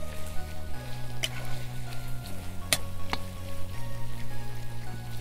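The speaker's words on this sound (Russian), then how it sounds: "И вот так вот уже без крышки обжариваем еще 5-10 минут" Chicken gizzards fry uncovered in a kazan over a campfire, giving a steady, close crackling sizzle with scattered sharp pops and a low tonal hum beneath.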